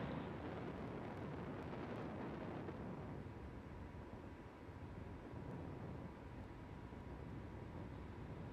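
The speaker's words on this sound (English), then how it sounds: "ignition, and liftoff of the Falcon 9" A SpaceX Falcon 9 rocket ignites and lifts off, a broad, continuous roaring rumble heard from a distance, dense and steady throughout.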